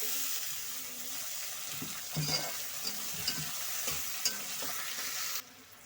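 Onion, garlic and tomato sizzle steadily in a pan for bitter gourd curry, with a few scraping stirs of a spoon cutting through the hiss before it drops away near the end.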